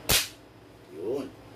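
A single sharp shot from a classic sniper rifle cracks loudly at the start during a test fire, followed by a short low rumbling echo.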